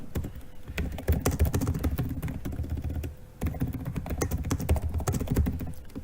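Fingers type a message on a computer keyboard in a steady, busy stream of close clicks and key taps, with a brief pause near the middle before typing resumes.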